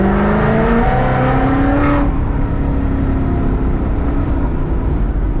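A built 1000hp Mustang GT500 pulls hard under throttle, its engine note climbing loud and close before a sharp break as it shifts, then droning on at lower revs.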